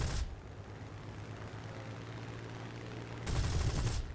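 Spitfire Mk.II machine guns in the combat flight game War Thunder, two short loud bursts of rapid fire at the start and near the end, with a low steady engine hum between them.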